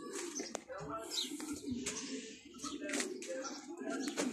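Pigeons coo softly from a rooftop coop that also houses ducks and chickens, with the low cooing running steadily beneath someone talking throughout.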